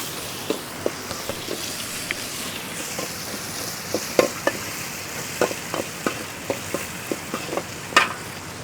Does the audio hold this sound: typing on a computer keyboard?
no